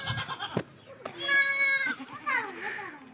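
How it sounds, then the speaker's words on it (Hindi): Tapri and Zira Ravi goats with their kids bleating close by, several wavering high-pitched calls in a row, with someone talking in between. "तो मुख्तलिफ नस्लों के जानवर हैं और बच्चों वाली बकरियाँ हैं ये सारी"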